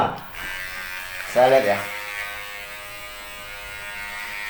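A Kemei 2713 or WMark electric hair trimmer running at its lowest speed setting gives a steady, close buzzing hum that continues throughout, with someone speaking briefly over it.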